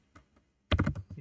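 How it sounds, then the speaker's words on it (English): A few light keystrokes followed by a quick burst of clattering typing on a computer keyboard, close and brief. "just by typing"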